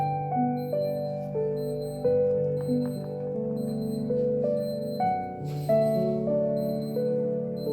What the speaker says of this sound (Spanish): Hay una alarma por ahí interrumpiendo